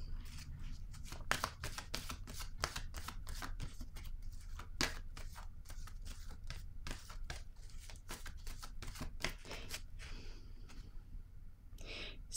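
Tarot cards handled and laid down on a table make a quiet, close series of soft flicks, slides and taps, repeating irregularly in a near-silent room.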